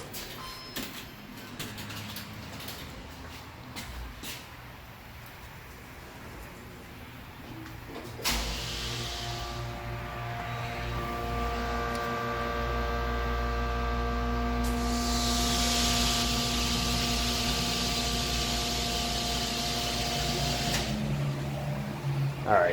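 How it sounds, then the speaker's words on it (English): A Dover/Miami Impulse hydraulic elevator machine room running in Sarasota, Florida: a steady motor hum with tonal whine rising partway, then a louder hissing surge of pump and oil flow before easing off, with some road noise mixed in. "we're gonna listen to the machine room."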